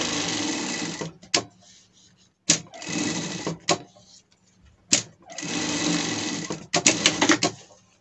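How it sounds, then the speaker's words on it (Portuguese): Sewing machine stitching a leather pet strap for a harness set, running in three steady bursts of rapid stitching separated by short pauses, close and clear. "E vamos passar uma costura aqui."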